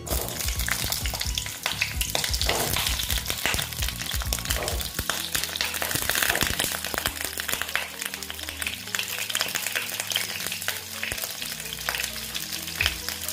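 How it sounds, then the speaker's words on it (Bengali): Pieces of pointed gourd (potol) fry in hot oil, giving a loud, steady sizzle broken by stirring and clattering utensil scrapes throughout, with no one speaking. "দেখো তেলটা প্রায় গরম হয়ে গেছে। এখন আমি পটলগুলো দিয়ে দিচ্ছি।"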